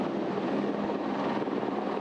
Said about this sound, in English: The Navy's helicopters came out for a spin.